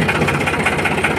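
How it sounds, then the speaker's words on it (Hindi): A farm tractor engine runs steadily during a ride through a village field, a loud, continuous rumbling drone close by with no talking. "ट्रैक्टर राइडिंग कर रही है"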